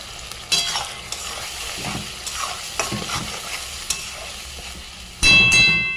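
Onions softened in a pan for cauliflower curry are fried and stirred with ginger, garlic and tomato paste: steady sizzling with repeated scraping strokes of a spatula, rising to a louder hissing burst near the end.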